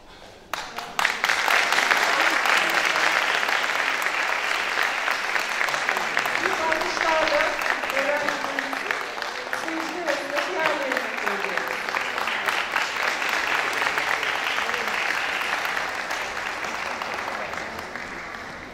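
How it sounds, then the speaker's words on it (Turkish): Sustained audience applause fills a school children's choir ceremony hall, a dense steady clapping from many hands lasting the whole stretch, with a voice speaking faintly over it. "Alkışlarımız lütfen devam etsin"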